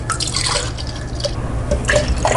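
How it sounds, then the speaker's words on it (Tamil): Chilled milk is poured into a glass for rose milk, a continuous close splashing and trickling stream with drippy bursts, loud and unbroken with no talking. "பால் ஆட் பண்ணிக்கலாம். 2 டம்ளர் அளவுக்கு ஆட் பண்ணிக்கலாம்."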